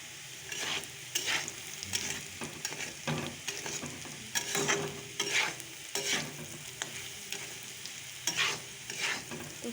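Potatoes frying in a pan give off a steady sizzle, with repeated close scrapes and clatters as they are stirred at an irregular rhythm; no voices.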